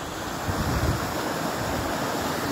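The flooded Magdalena River rushes with a steady, broad roar close by, its dense wash swelling slightly early on before holding even, with no voices.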